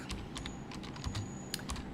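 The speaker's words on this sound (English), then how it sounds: "I'm typing the number in the chat." Quiet, quick keystrokes patter on a computer keyboard in an irregular burst of clicks, close and fairly soft, with no talking.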